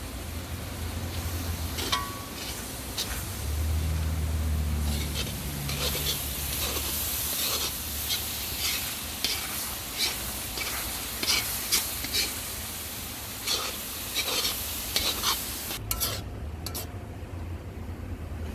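A pot of Guyanese sugar cake mixture being stirred, with long stretches of scraping and sizzling plus scattered clinks of a utensil against the pot, fairly close, under a low background hum.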